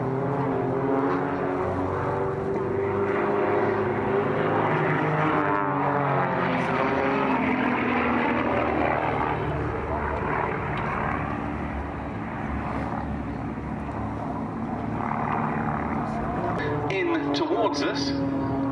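A propeller aircraft drones steadily while flying a barrel roll in formation at the Duxford air show, a continuous engine hum, fairly loud and distant, under a commentator talking throughout.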